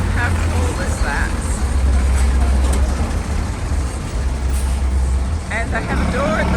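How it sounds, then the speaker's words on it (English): Buses in the old town of Antigua rumble and idle close by in steady, loud traffic noise, with a low engine drone throughout and a few brief higher squeals, while voices murmur faintly in the background. "I just love these buses."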